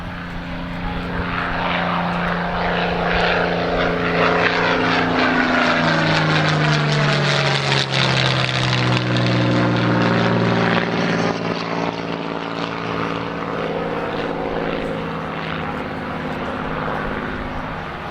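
Loud, sustained drone of WWII propeller fighters, a P-40 Kittyhawk, Spitfire and P-51 Mustang, roaring past at an air show, engine pitch sliding as they fly by, steady and continuous with no talking.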